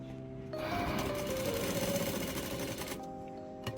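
Sewing machine running steadily, stitching a folded hem along the edge of an old dupatta, a continuous close mechanical whir for about three seconds with no talking.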